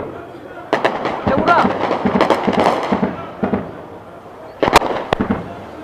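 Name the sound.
heavy guns firing shells exploding near Goma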